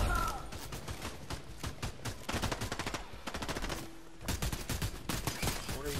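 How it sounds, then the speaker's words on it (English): Bots in the Fortnite video game fire bursts of gunfire in a dense, crackling volley, some shots sharp and close, others layered behind, the rattle running almost continuously with brief gaps. "Although these bots are shooting at them."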